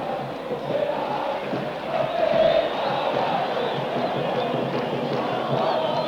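A large football stadium crowd of about 50,000 in Asunción at a 1990 World Cup qualifier between Paraguay and Colombia gives off a steady distant roar with swelling cheers and shouts.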